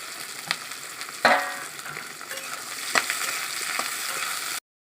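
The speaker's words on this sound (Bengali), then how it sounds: "পেঁয়াজটাকে এবার আমি ভেজে নেব" Chopped onion frying in hot oil with bay leaf while cooking an egg curry, a steady sizzle with a couple of sharper crackling bursts and stirring, close and fairly loud throughout.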